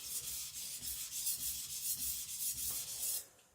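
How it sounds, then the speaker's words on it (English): Hard AEB-L steel gyuto knife at HRC 66 drawn repeatedly across a whetstone, a steady rhythmic scraping of about a dozen close, moderately loud strokes with no talk, ending abruptly. "It's like sharpening glass on the stone."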